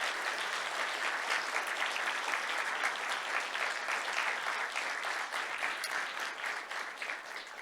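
A large debate-event audience gives a big round of applause for volunteers and board members, steady dense clapping filling the room at moderate distance and continuing without a break.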